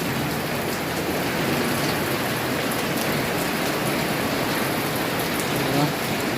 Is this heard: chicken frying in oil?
no